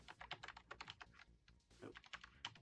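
Rapid, uneven bursts of keystrokes on a computer keyboard while typing a message into a chat, close and fairly quiet, with a brief pause midway before the clicking resumes.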